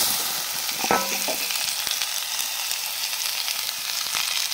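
Raw mango and a spice tempering in oil stirred with a ladle for mango pachadi, a close steady sizzle with a few metallic ladle clinks and scrapes, no speech.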